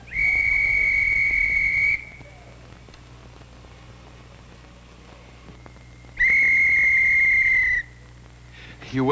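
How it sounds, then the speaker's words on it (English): A person whistling two long, steady, high sustained notes separated by a few seconds of quiet, each held nearly two seconds and fairly loud and close. "You whistled?"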